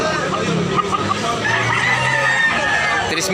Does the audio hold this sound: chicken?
yes